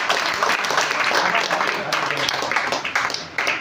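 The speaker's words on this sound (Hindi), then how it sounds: "विरासत के लिए एक जोरदार ताली" Audience applause at a talk on avoiding drug addiction, a dense crowd of clapping filling the room for several seconds, loud and sustained with a slight thinning near the end.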